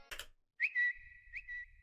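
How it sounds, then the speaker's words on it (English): A Twitter tweet chirp used as an effect in a hyperpop track, a few short high chirping bird-like notes with a soft echo trailing, faint and close with no talk. "I added a little sound effect of the Twitter tweet"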